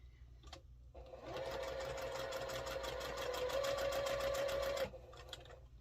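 A sewing machine stitches quilt block pieces together in one continuous, steady run of rapid needle chatter lasting a few seconds, close and clear, with quiet handling sounds before and after.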